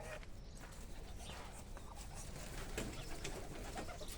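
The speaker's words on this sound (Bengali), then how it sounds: "এই যে আমার বাতাকগুলো রয়েছে এখানে" Pigeons cooing inside a pigeon house, low soft coos under a dense, noisy background with handling sounds nearby.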